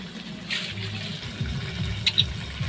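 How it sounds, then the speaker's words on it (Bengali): Water poured into a pan of pabda fish coated with poppy-seed spice paste: a soft, steady trickle close by, with light splashing and no talk. "এখন আমি একটু জল দিয়ে দেবো"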